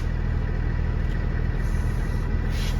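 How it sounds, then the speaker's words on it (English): A vehicle creeps forward at about 5 mph during a brake test, its engine giving a steady, low, even hum close by. Nothing else rises above it. "I'm going to drive about 5 miles per hour"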